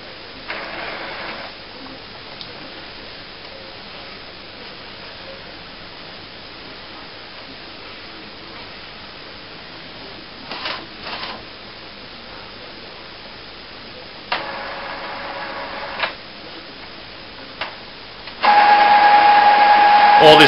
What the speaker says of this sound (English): that immediately starts to move the cartridges from left to right